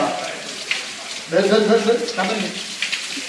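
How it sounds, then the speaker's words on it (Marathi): Hot spring water at Unhale, Rajapur flows steadily and close by while a person talks over it. "हे बघा पाहू शकता गरम पाणी येते"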